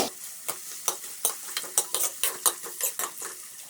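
Chopped onions fry in oil in a kadai while a utensil scrapes and stirs them. The sharp metallic strokes come in a quick, irregular rhythm over a low sizzle, close and fairly loud.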